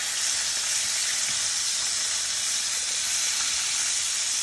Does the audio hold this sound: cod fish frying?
yes